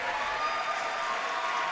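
A high school basketball crowd in a gym gives a steady round of applause as a player heads to the bench, sustained clapping from many hands at a fairly loud, even level with no voices standing out.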